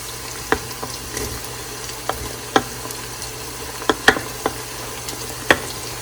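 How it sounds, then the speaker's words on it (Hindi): Tomatoes go into a pan of sizzling onions, giving a quiet frying crackle broken by sharp, scattered pops and clicks. "ओके, अब मैं इसमें टमाटर डालूँगी।"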